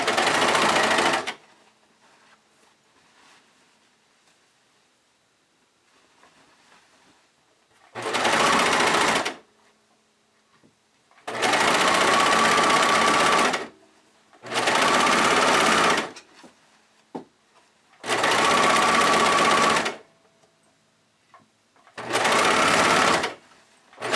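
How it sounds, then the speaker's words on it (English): A serger overlocker sews a bodysuit seam in five or six loud, close bursts of rapid whirring stitching, separated by quiet pauses. "So there it is, stitched on with my serger"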